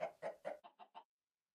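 Chickens in a survival video game give six short clucks in quick succession, the first three fuller and the last three thinner, then go silent.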